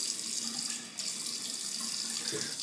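Warm water pours steadily from a tap into a sink before a shave, a close, even hiss that barely dips partway through.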